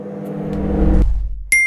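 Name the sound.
microwave oven heating a bowl of lemon water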